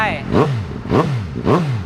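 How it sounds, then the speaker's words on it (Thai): A 2020 Suzuki GSX-S750 motorcycle with about 13,000 km on it blips its engine three times in quick succession, each rev climbing and dropping sharply, loud and close. "ฟังเสียงกัน อัตราติดง่ายครับ รอบเดินเบานิ่งนะฮะ"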